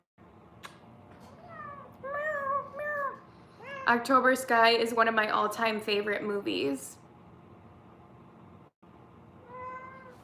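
Pet cat Simon meowing repeatedly up close, a cluster of short meows early then a longer run of insistent, overlapping cries, with a person talking quietly underneath.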